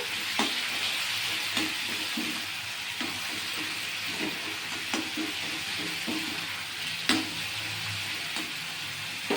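Chilli cauliflower frying in a pan with two spoons of soy sauce, a steady sizzle with repeated scraping stir strokes throughout, close and fairly loud.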